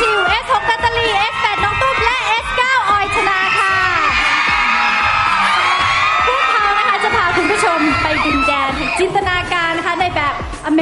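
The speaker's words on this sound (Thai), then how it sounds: "ขอเสียงกรี๊ดดังๆให้กับโชว์ The American The Brazilian Carnival ค่ะ" A loud TV talent-show audience cheers, whoops and screams continuously over pounding music during a Brazilian Carnival-themed performance, with shouting voices throughout.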